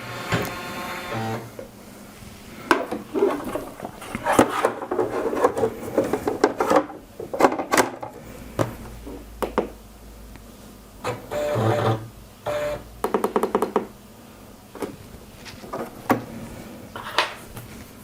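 A Pfaff Creative 1.5 embroidery machine with a magnetic hoop runs in uneven bursts, a busy mix of whirring, clicking and rubbing mechanical sounds that stop and restart throughout.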